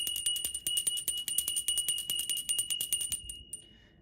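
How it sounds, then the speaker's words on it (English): A small bell rung repeatedly in a fast, steady series of bright metallic strikes with sustained ringing tones, loud and close, then fading out at the end. "let me go ahead and ring the bell to clear off the energy"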